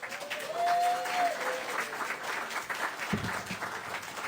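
A church congregation applauds during a worship service, steady clapping filling the room at moderate loudness, with a faint tonal whistle early on and a low thump near the end.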